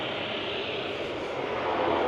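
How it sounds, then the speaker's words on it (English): Float plane taking off near Ketchikan, Alaska, a steady broadband engine drone heard from a distance that grows slightly louder toward the end, with no talk. "Here's one of those float planes there taking off."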